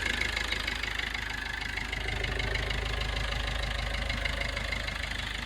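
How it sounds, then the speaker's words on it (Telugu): A 2015 Maruti Ciaz VDi+ diesel engine idles steadily nearby with the air conditioning on, a continuous rough knocking hum with a rhythmic low clatter and no change in pace. "ఏసీ ఆన్లో ఉన్నా కూడా చూసుకోవచ్చు ఇంజిన్ సౌండ్ ఎలా ఉందో"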